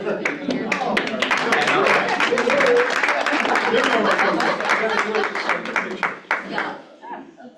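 Audience applause at a stakeholder meeting, steady dense clapping from a room of people for several seconds before tapering off near the end.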